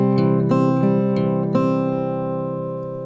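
Acoustic guitar picking a riff, a handful of plucked notes over ringing open strings that sustain and slowly fade, close and alone without speech.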